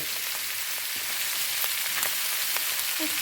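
Bamboo shoots stir-fried with pork belly in a hot pan hiss in a steady, close sizzle, with faint scrapes of stirring throughout.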